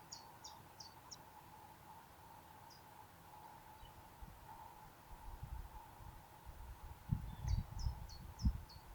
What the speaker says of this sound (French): au son du chant mélodieux des oiseaux